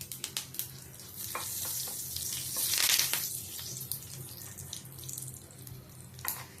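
Three dry red chillies and curry leaves spluttering in hot oil for a South Indian coconut chutney tempering, a close crackling sizzle with scattered sharp pops, swelling briefly in the middle before settling.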